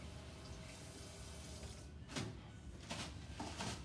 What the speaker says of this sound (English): I'll give my hands a little bit of a wash.